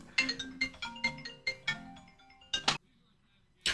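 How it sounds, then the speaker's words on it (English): A phone rings with a rapid series of bright, tinny chime bursts that come in quick succession, stop, and then start again after a short pause, loud and close. "Okay, my phone rang."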